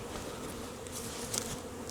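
Honey bees buzz steadily at a hive being started, a dense close droning swarm sound holding level throughout with no voices.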